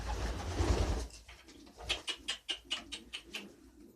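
Pigeons in a loft coo close by in a quick rhythmic series of soft, repeated pulses after a brief rustle, with no talking.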